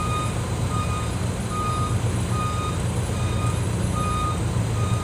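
A Volvo B7R bus with automatic transmission reverses, its loud, steady reversing beeps repeating at an even pace over the constant rumble of the idling diesel engine.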